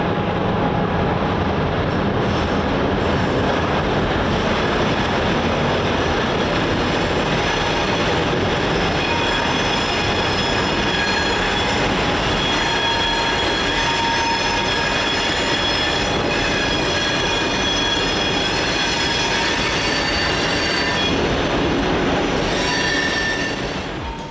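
A freight train led by locomotive HLCX 1078 rumbles past steadily at close range on the Coos Bay Rail Line, with metallic wheel squeal and clatter running throughout, loud and continuous.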